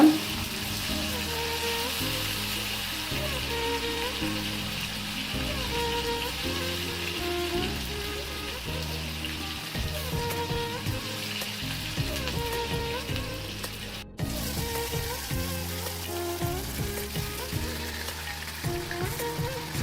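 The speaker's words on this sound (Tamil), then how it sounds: "எண்ணெய் நல்லா காஞ்சதும் கருவேப்பிலை போட்டுட்டு நல்லா அதை ஃப்ரை பண்ணிவிட்டு அது கூடவே அந்த கறியை போட்டு ஃப்ரை பண்ணிகிட்ருக்காங்க" Curry leaves and meat frying in hot oil make a steady, close sizzle with soft stirring scrapes that runs through the whole stretch, briefly cut off near the end.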